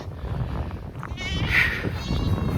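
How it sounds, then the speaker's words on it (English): A hungry goat bleats once, a wavering cry over steady cold winter wind noise outdoors, with fainter animal sounds around it. "The goats are hungry."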